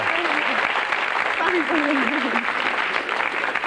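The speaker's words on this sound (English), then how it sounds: "give her a cheer" Studio audience on a 1994 supermarket game show cheering and applauding, a dense steady wash of clapping filling the whole stretch while a host talks over it.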